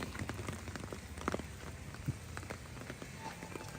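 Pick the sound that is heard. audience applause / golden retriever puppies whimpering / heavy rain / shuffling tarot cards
heavy rain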